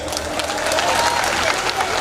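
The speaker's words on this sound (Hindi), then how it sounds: "ताली लगाइए।" Audience applause for an introduced candidate at a political rally for a chief minister's event, a sustained wash of crowd clapping with faint voices mixed underneath.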